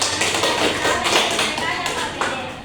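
A classroom group claps together in a quick, steady burst of applause lasting a few seconds, fairly close and loud.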